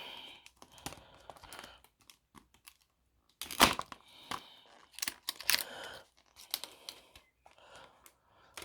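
A blunt blade hacks and tears at a stiff plastic blister pack, giving irregular crackling, crinkling scrapes and sharp snaps in short bursts separated by pauses, close up with no talking.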